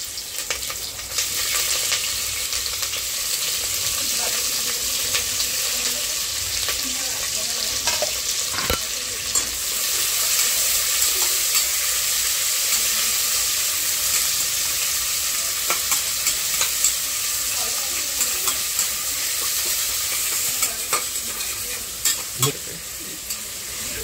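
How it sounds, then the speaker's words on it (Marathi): Onions and sliced green chillies fry with whole spices in hot oil, a steady bright sizzle running throughout with occasional scraping stirs and small pops, close and fairly loud, no talking. "आता कांदे थोडे कलसले गेले आहेत आणि मिरची पण।"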